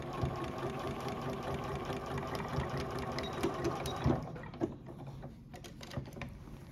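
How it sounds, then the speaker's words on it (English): Domestic sewing machine running a straight stitch to close the gap left for inserting elastic in a waistband of homemade shorts, a steady close mechanical whirr for about four seconds before slowing into a few short bursts. "Putting my machine back to a straight stitch, I am going to close up that gap that we left open to insert the elastic."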